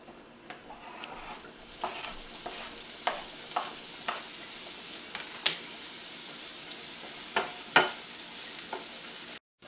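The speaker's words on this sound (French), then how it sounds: "Là, je vais aller faire cuire mes piments." Small chili peppers fry in a pan, giving a soft, steady sizzle broken by a series of faint stirring clicks and scrapes, with no talking.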